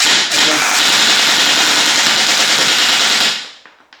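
A gun fitted with a homemade forced reset trigger fires in a rapid, continuous burst, loud and dense for over three seconds before cutting off, followed by brief ringing and faint clatter.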